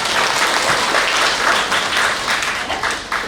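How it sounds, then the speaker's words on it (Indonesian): Enthusiastic applause from a congregation at a church anniversary service, a dense, steady wash of clapping that stays loud and even throughout, with no talk over it. "Kasih tepuk tangan yang semangat."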